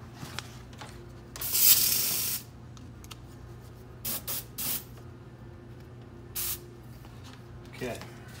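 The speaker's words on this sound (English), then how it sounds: "And we'll spray that out onto this piece of material here." Polycryl coating is sprayed from a jar sprayer onto a piece of material, one longer hissing burst followed by several short spurts, with talking between them.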